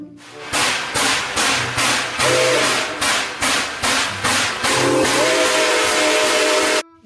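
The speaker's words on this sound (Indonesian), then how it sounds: "Kereta uap." A toy steam train chugs in loud, regular rhythmic puffs, with a high whistle sounding twice over the chuffing before it cuts off abruptly.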